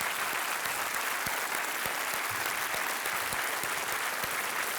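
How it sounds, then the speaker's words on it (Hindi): Steady, dense studio-audience applause on a television quiz show set, loud and continuous from start to finish, with no talk over it. "तो आइए जोरदार तालियों के साथ स्वागत किया जाए"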